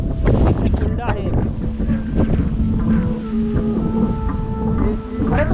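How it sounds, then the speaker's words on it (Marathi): Strong gusts buffet the microphone on an exposed hillside trail at Sagargad Fort near Alibag, with a loud continuous low roar beneath people chatting nearby. "वाऱ्याचा आवाज आहे रे."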